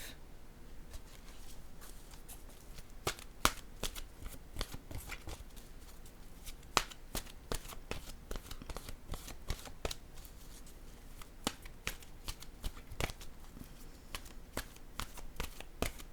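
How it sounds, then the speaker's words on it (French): A deck of oracle cards being shuffled by hand, giving steady rapid riffles and soft papery snaps close to the microphone, with no voices. "Je vais piger maintenant une carte de mon oracle de l'âme intuitive."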